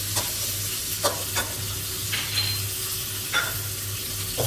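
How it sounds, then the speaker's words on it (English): Carrot and corn stir-fried in a hot pan alongside egg for a Thai ramen dish, a steady sizzle broken by several scraping stir strokes, close and fairly loud with no talking. "Stir a little and continue frying."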